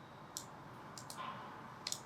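A computer mouse clicks during spreadsheet work, giving a few sharp, quiet clicks spaced irregularly, including a quick double click near the end, over a faint steady background hum with no talking.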